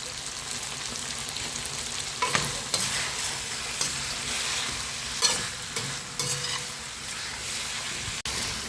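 Cauliflower pepper fry with curry leaves being stirred in a pan, a steady close sizzle and hiss broken by scraping clinks of the spoon against the pan every second or two, with no talking.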